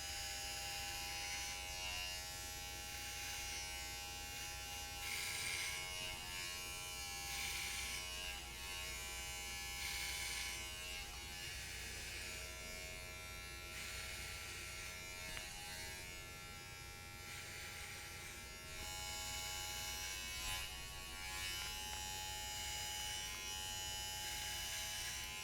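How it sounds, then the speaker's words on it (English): Electric hair clippers with no guard and the lever open buzz steadily as they cut hair during a self-administered buzz cut, a close, continuous motor drone with slight shifts in pitch and no talking. "So now with my clippers, with the no guard lever open, I'm gonna go up about 3/4 of an inch"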